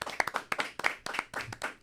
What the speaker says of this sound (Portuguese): Uma salva de palmas pro nosso cenário.